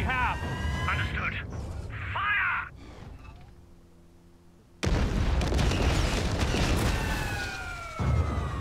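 LEGO Star Wars weapons fire and explosions on Crait come as heavy booms and bursts of blaster fire, loud and close, broken by a short quieter stretch with dramatic score, while voices speak over the action.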